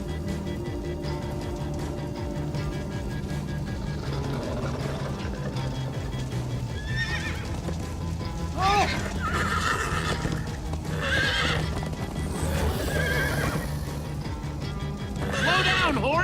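Several horses in the Minecraft: Story Mode video game neigh and whinny repeatedly over the steady drum of galloping hooves, with game music and a voice underneath, loud and close throughout.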